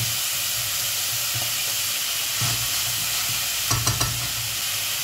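Dried beef and onion sauté in a pan, giving a constant close sizzling hiss with a few stirring scrapes and clinks near the end and no voices.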